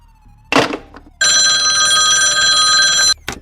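An old-style telephone bell rings in a radio play, one sustained ring of nearly two seconds, loud and steady, bracketed by short bursts of noise just before and after it, with no voices.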